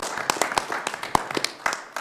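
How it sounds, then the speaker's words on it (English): Scattered hand claps from a small group at a county board of commissioners meeting, uneven and brief, with some murmuring voices underneath. "We can clap for that."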